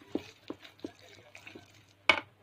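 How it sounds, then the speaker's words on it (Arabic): A spoon stirs savory cupcake batter mixed with baking powder, curry, thyme, a pinch of salt and sugar, giving several soft, evenly spaced scrapes and taps, then one sharper clink against the bowl near the end. "نقلب واحده واحده المقادير معانا"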